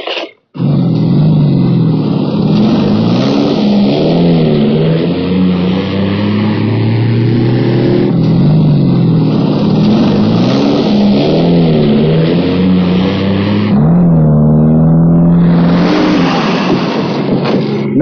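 A car engine revs and drones steadily as the vehicle pulls away in a Hindi action comedy film, loud and continuous throughout with swelling pitch rises, overlaid with a dramatic music score.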